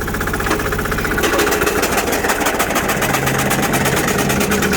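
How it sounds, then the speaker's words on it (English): A diesel Sears loader idles loudly and strains up close as its failing transaxle struggles in reverse gear, giving a rough, continuous engine drone with a knocking rumble underneath. "she's not happy trying to use any reverse gears"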